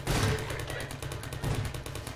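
Rapid bursts of video-game gunfire during a firefight with turrets and grenades, loud close rhythmic shots filling the short moment.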